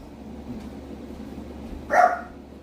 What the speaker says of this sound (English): She's been loving to bark at all the firefighters and everyone coming around.